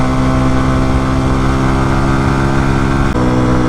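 An RPS Condor 150cc scooter engine running too rich, a loud, steady, close drone that holds evenly throughout with a brief dip near the end, with no talking.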